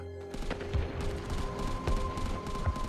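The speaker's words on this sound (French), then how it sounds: "les canons anti-aériens ont ouvert le feu" Repeated heavy thuds and bursts of anti-aircraft gunfire boom in quick succession at a distance, over a low rumbling background, during an air raid over Los Angeles.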